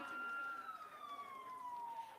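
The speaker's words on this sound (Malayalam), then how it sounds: "ആംബുലൻസ് വരുന്നുണ്ട്, നിങ്ങൾ മാറി നിൽക്കണം, വഴി മാറി." Ambulance siren during a Wayanad by-election rally, a single long, fairly loud tone that slowly falls in pitch over about two seconds, with crowd noise underneath.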